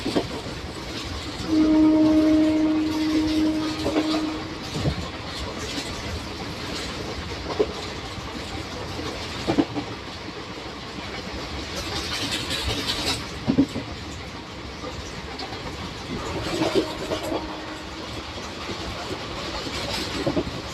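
Koyna Express passenger train on the Kolhapur to Satara run passing through Nandre railway station, with a steady rumbling roar, rhythmic clickety-clack of wheels, several brief horn blasts and sharp clanks over the rails.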